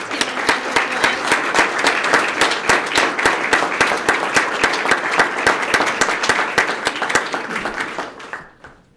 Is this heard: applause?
yes